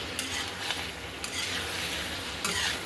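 Soybean chunks frying with spices in a pan sizzle loudly and continuously up close, with a few sharp scrapes of a spoon against the metal as they are stirred.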